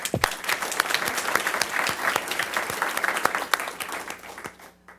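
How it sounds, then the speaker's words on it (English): Applause from the audience at a city council meeting, a steady dense patter of many hands clapping for about four seconds before thinning out and fading at the end. "So, real big round of applause for them."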